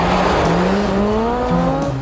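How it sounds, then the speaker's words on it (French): A Peugeot 306 Maxi race car with carbon body panels runs on an ice circuit between snow walls at Val Thorens, its engine note rising and shifting through gears in a loud, continuous howl close by. "Freinage, accélération, appel, contre-appel, toujours plus vite entre deux murs de glace."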